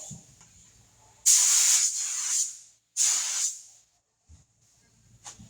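A Toyota Tacoma truck being spray painted: two loud, close bursts of spray-gun hiss, the first longer and fading, the second shorter, with quiet pauses and faint low background rumble between.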